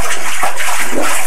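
Loud, close water sloshing and splashing as a child plays in a bath, with a few quick bursts of agitation over a brief moment.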